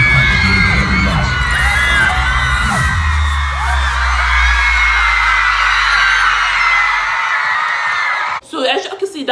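A concert crowd screams and cheers loudly for several seconds, a dense wall of voices that fades toward the end before a brief burst of noise.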